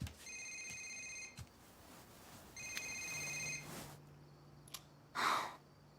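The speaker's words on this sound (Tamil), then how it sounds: "உனக்கு ஃபோன் வருது பார்." A telephone rings in a few quiet bursts in a dubbed Tamil film scene, followed by soft breathing and a brief rustle, with no talk over it.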